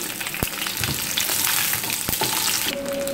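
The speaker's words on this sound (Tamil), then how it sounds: "பெருங்காயம் பூண்டு புளி சேர்த்து வதக்கலாம்." Shallots, garlic, asafoetida and tamarind fry in oil in a pan for mint chutney, giving a continuous close sizzle broken by a few sharp clicks of a stirring spoon.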